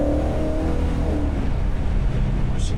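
A 1968 GMC truck engine revs loud and close in a steady, throaty drone as the truck pulls away.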